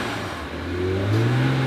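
A BMW engine, just repaired after a backfiring fault, revs up under the throttle. The pitch rises steadily and the note grows louder over a short burst, with no talking.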